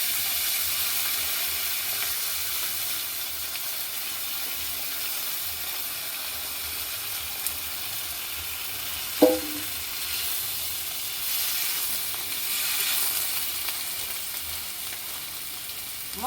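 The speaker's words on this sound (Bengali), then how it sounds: "জিরা ফোড়ন দিলাম" Cumin seeds sizzling in hot oil for tempering while cooking a spicy tilapia and loitta fish curry, a steady, even hiss and crackle with one sharp pop partway through.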